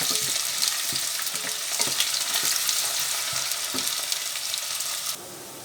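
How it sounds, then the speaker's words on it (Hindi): Sliced onions hit hot soybean oil in a pan for urad dal, giving a loud, steady close-up sizzle with scattered stirring clicks throughout, dropping slightly quieter near the end. "तेल गर्म हो गया, अब हम डालेंगे इसमें प्याज। इसको हल्का सा भूनेंगे।"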